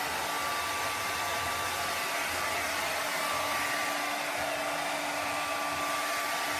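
A hairdryer blowing on an acrylic painting, a steady close rushing whir with a faint tonal hum that holds constant throughout, no voices.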